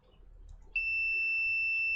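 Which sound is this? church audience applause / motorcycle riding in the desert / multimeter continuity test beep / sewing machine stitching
multimeter continuity test beep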